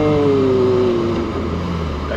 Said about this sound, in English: So let's do another four to third downshift.